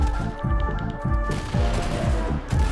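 Rapid bursts of automatic gunfire in a squad-based shooter video game, loud and close, in repeated volleys with brief gaps between them.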